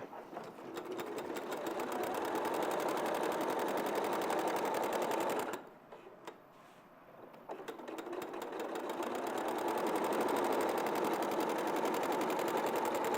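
A sewing machine with a walking foot stitches a quilt with a steady, rapid mechanical whir, pausing briefly midway before running again at the same even pace.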